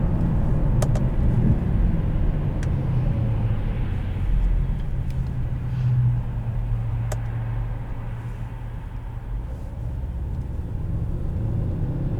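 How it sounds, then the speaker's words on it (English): Steady low road rumble and engine drone inside a 2013 Mercedes-Benz E63 AMG cruising on a highway, with faint occasional clicks and no talking. "As you can hear on the highway, nice and quiet in here."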